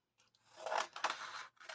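Scissors cut around paper shapes for a Christmas craft, a run of soft, close, crunchy snips, quiet with no one talking.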